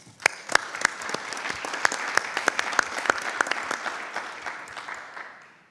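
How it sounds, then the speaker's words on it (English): Applause from the audience at a school board meeting, with many hands clapping steadily for several seconds before tapering off, and no talking over it. "Another round of applause for them."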